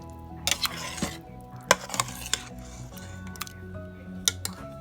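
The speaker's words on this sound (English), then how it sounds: "I'm going to add a can of black beans just to make it a little bit more filling, and I'll just stir that in." Black beans stirred into fajitas in an Instant Pot pressure cooker, a spoon clinking and scraping against the metal pot in irregular strokes over a soft background hum, close up and with no talking.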